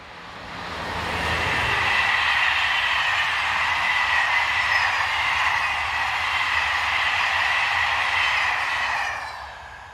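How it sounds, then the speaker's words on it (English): Locomotive 26001 hauls a southbound French passenger train from Paris to Cahors, a broad rushing roar that swells in within two seconds and holds steady and loud as the train passes, with no voices. "Heading south is 26001, powering the 1737 from Paris to Cahors"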